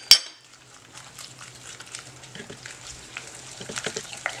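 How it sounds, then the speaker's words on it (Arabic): Eggs, sugar and vanilla are whisked in a bowl: after a sharp clink of metal on the rim, a soft, quick scraping and tapping of a utensil continues close by, growing slightly busier toward the end. "صافي غادي نخلط معاك واحد شويه"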